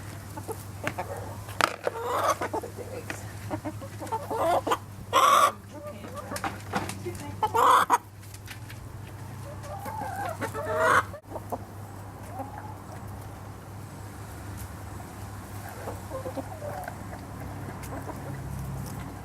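Chickens clucking nearby, with a few short loud squawks between bursts of soft clucks, over a low steady hum.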